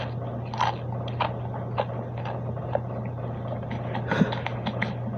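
Crunchy bites of a thin slice of microwaved ham being chewed up close, irregular crisp crackles spread over several seconds against a steady low hum.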